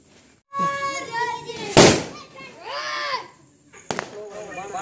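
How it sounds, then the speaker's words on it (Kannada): Neighbourhood children set off Diwali firecrackers, and two sharp pops ring out amid excited children's voices and chatter. "ನಮ್ಮ ಏರಿಯಾ ಚಿಕ್ಕ ಹೈಕ್ಳುಗಳೆಲ್ಲ ಪಟಾಕಿ ಹೊಡಿತಿದ್ದಾವೆ."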